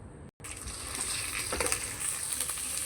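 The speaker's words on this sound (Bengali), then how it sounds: "মশলাটা ভেজে নেব" Spice paste of turmeric, dried chilli powder and salt frying in a pan, a dense continuous sizzle with occasional crackles and spatters, close up, after a brief cut at the start.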